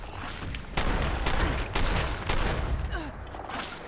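Shotgun fire in the video game Fallout 76, several loud blasts in a quick, uneven sequence over a busy game soundscape.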